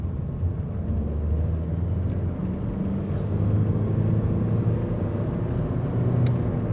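A 2008 Skoda Octavia II 1.9 TDI diesel with a turbocharger overboost fault pulls in second gear, a steady, loud low engine rumble and drone that swells slightly midway and holds without pause.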